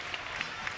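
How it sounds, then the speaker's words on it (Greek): Crowd applause for Panionios at the end of a Basket League basketball game against PAOK, a brief, steady patter of clapping from a distant arena crowd. "Τα χειροκροτήματα για τον Πανιόνιο"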